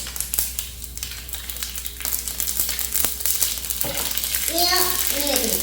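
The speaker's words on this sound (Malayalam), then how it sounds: "കടുക് പൊട്ടിക്കുന്നു" Mustard seeds splutter and pop in hot oil for a Kerala pineapple pachadi curry, a steady frying crackle with scattered sharp pops, while a voice talks over it near the end.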